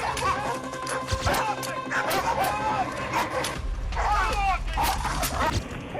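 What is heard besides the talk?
dogs barking and attacking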